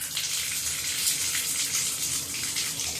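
Steady, broadband rush of water running from a shower tap, filling the space at close range with a constant hiss and no talk.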